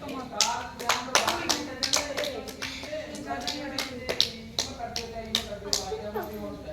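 A group of children claps in a quick, steady rhythm close by, the sharp slaps continuing for several seconds with some voices underneath.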